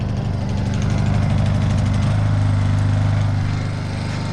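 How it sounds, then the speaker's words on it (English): A Honda generator engine runs steadily right after a pull start, a loud, close, continuous low mechanical drone whose pitch shifts slightly partway through, with no talking. "And that's why we love a Honda generator."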